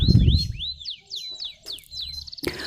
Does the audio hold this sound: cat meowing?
no